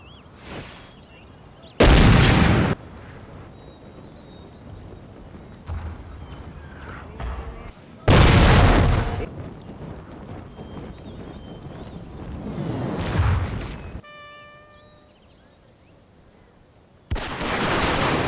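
A Total War battle between British and Zulu forces, with loud, booming blasts of gunfire and rockets erupting at intervals and a rattling burst of Gatling-gun fire between them, over a steady rumbling din.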